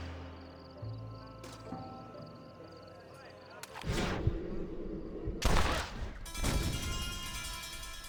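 Gunfire in the Western video game Red Dead Redemption, a few sharp, loud shots bursting out in separate blasts over a tense musical backdrop.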